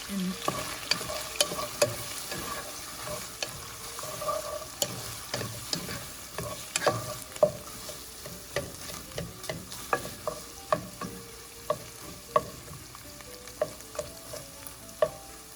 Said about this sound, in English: Add the chopped onions and saute for about 1 minute until softened